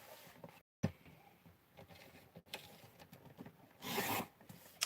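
Card stock is cut to size for a card front at a paper-crafting table. Faint rubbing and scraping are followed by a louder swift slicing swipe near the end.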